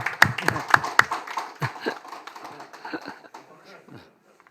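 Scattered, fairly light claps from a small audience at a guest-speaker event, a few sharp hits early on with a voice talking over and between them, then fading out.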